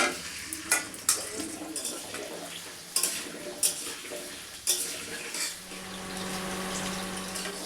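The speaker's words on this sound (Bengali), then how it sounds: "সর্ষের তেল, আলুগুলো ভেজে নেব।" Potatoes frying in mustard oil in a Bengali home kitchen, with a steady soft sizzle underneath, a few sharp clinks of a utensil against the pan, and the frying growing more even and continuous toward the end.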